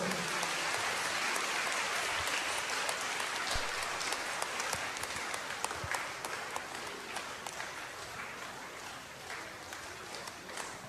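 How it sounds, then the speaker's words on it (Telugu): Sustained audience applause at a Catholic church gathering honouring a priest: dense, steady clapping from a crowd, lasting about eleven seconds and easing slightly toward the end, with no talking. "అందరం గట్టిగా చప్పట్లు కొడదాం"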